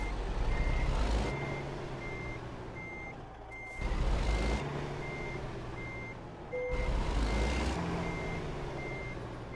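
Repeated evenly spaced reversing beeps from a truck backing a trailer in American Truck Simulator, steady and fairly clear over a continuous low diesel engine rumble, with the engine swelling in three surges.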